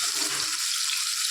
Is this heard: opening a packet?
no